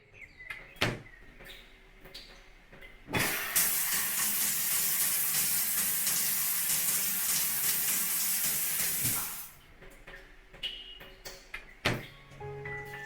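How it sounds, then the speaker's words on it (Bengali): Running water in a bathroom during a bath, a steady loud hiss of flowing water that starts abruptly, pours for about six seconds and stops, framed by a few knocks and clunks before and after. "আমিও বাথরুমে গেলাম স্নান করতে।"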